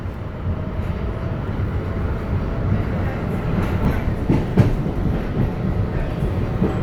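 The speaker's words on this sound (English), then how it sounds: "Oh, here comes another train." An MBTA Green Line light rail train rumbles past steadily, a dense low roar with rail clatter building slightly toward the middle, continuous and fairly close.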